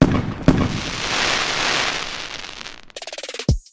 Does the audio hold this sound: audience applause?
no